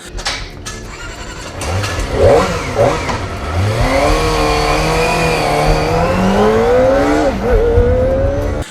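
Kawasaki Ninja ZX-25R, a 250cc sport motorcycle, revving loud and close with rising and falling engine pitch as it climbs through sustained high revs.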